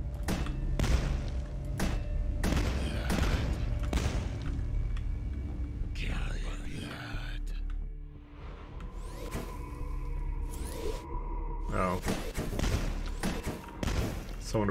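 Gunfire from the game Dusk: repeated loud, punchy shots and thuds with metallic clanks between bursts, and a quieter lull in the middle.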